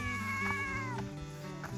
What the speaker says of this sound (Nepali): ठुलो बिरालो रहेछ है,